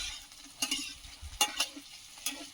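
Potatoes fry in a pan with a soft background sizzle, broken by three or four sharp scraping stirs of a spatula at uneven intervals, fairly close and quiet.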